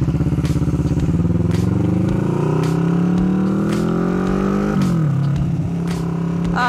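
A Kawasaki Vulcan 650 motorcycle ridden in the rain, its engine droning loud and close with a steady rising pitch, then a sudden gear change and a renewed pull, and faint ticking and spray over the engine note.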